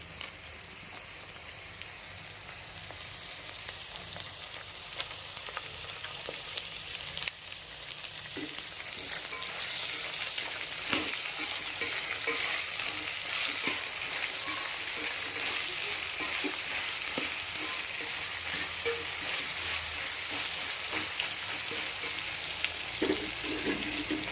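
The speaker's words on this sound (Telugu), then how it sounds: "ఇవి బాగా ఆయిల్లోనే మగ్గాలండి ముక్క మెత్తబడేంత వరకు వేయించుకోవాలి" Mixed vegetables for vegetable pulao frying in oil in a pan, with a steady, continuous sizzle and crackle throughout, close and fairly loud.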